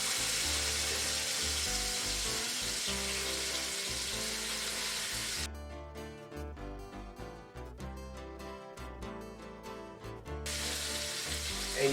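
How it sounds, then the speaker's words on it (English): Pork chops sear on a hot pan, giving a loud, continuous sizzle with a dense hiss that eases briefly in the middle before surging again, with no voice over it. "I just want to brown the edges on the hot pan."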